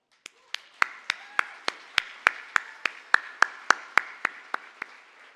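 A slow, steady run of about seventeen separate, evenly spaced hand claps after a guest named Malcolm is thanked at a 50th anniversary celebration address. The claps sound like only a few hands rather than a full crowd.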